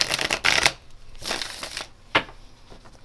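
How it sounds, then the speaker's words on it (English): Tarot cards being shuffled by hand, in several crisp riffling bursts separated by short pauses, close and fairly quiet with no talking. "Get everything shuffled."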